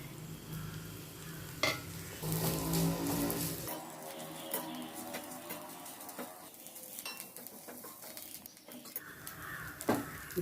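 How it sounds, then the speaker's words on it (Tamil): Carrot peels sauté in hot oil with a busy crackling sizzle and repeated stirring scrapes at close range, with faint outdoor sounds in the background. "இப்போது இந்த கேரட் தோலை எண்ணெயில் வதக்கிக்கலாம்"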